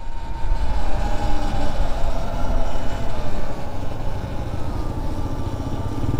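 Surron Light Bee X electric dirt bike pulling hard in sports mode, a steady loud whine and rushing road noise sustained throughout with no one speaking.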